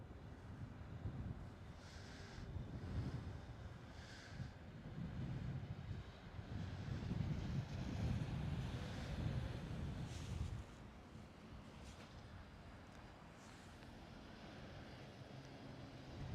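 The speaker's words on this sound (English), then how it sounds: "they're a KLM Airbus A321neo" A KLM Airbus A321neo at Schiphol, Amsterdam, passes as a broad, steady jet roar with wind rumble, swelling for about ten seconds and then easing to a quieter hiss.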